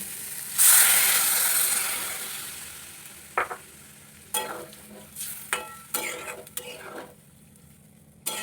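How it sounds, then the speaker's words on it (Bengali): Water poured into poppy seed paste frying in oil for aloo posto bursts into a loud, steamy sizzle, then settles into a hiss broken by several sharp scraping stirs. "এবার এর মধ্যে জল দিয়ে দেবো"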